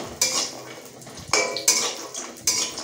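Bori lentil dumplings frying in oil in a pan, heard as a few sharp metal clinks of a spatula against the pan every second or so over a soft sizzling hiss, close and alone without talk.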